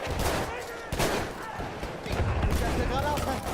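Sustained gunfire in Battlefield 1 during an Operations defense, dense overlapping shots and battle noise filling the whole stretch, loud and continuous.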